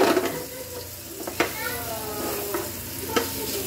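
Pork adobo browns in a hot pan with a steady crackling sizzle, broken by a few sharp scrapes and clinks of stirring, with faint speech underneath.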